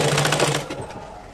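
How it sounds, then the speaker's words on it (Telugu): A sewing machine stitching shirt cloth, a fast steady mechanical whirr of the needle heard up close and alone for a brief moment. "బకరం మీద కుట్టు పడకుండా క్లాత్ మీద ఒక సూది అంత ఎలుపు ఒక కుట్టు అంత ఎలుపు వదిలి క్లాత్ మీద కుట్టుకోండి"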